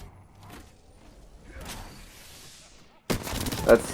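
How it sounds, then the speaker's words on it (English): R99 and RE45 guns in the Apex Legends video game: near-silence first, then an abrupt loud burst of rapid gunfire in the final second. "This is one of my favorite gun combinations, the R99 and the RE45."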